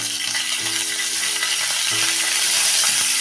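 Dried red chilies soaked in water and a pinch of asafoetida hit hot oil for tempering, making a loud, continuous close-up sizzle and hiss with faint stirring underneath.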